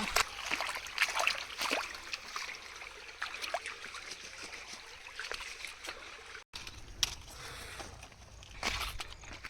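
Water trickles and flows gently nearby on farmland beside a dam in Madhya Pradesh, India, with soft splashes and faint rustling, and a short break partway through.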